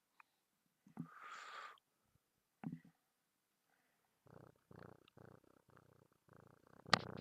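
A cat purrs near the listener in a cab of a Scania truck, a soft rhythmic rumble in short bursts of several breaths, with a couple of faint rustles before it and no talk over it.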